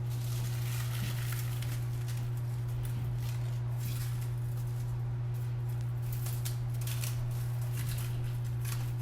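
Scissors snip through dry wheat stalks for a ritual bundle, giving repeated crisp cuts and rustling up close over a steady electrical hum.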